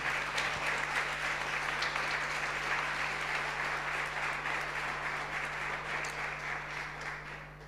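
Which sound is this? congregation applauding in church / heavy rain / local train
congregation applauding in church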